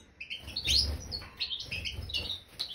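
Goldfinches in a breeding cage chirp and tweet in quick, overlapping bright calls, close and fairly faint, with no voices.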